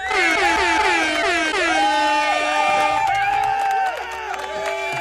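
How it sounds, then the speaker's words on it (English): An air horn sound effect blares loud and close as a string of wailing, pitch-bending horn blasts, layered over a cheering crowd and some shouting. "An air horn."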